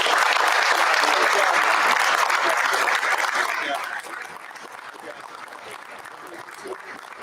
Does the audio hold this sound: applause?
yes